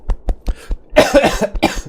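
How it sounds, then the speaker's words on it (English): A series of short, sharp coughs in quick succession, starting with small hacks and then a heavier, rougher burst of coughing up close. "Just suddenly got a cough."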